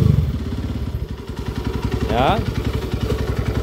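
A Honda TMX155 motorcycle engine upgraded to 200cc idles with a steady loud chugging, then revs up briefly before settling back, while someone speaks nearby.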